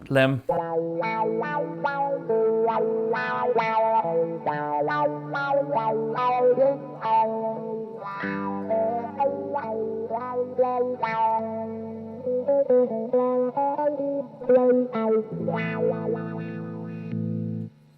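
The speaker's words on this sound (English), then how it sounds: "the combination of the fuzz phase and the overdrive on the amp is giving you this burning sound" Electric guitar played through a fuzz phase pedal into an overdriven amp, a burning, distorted tone with swirling phase, picking single notes and short melodic runs and sustained bends, loud and upfront.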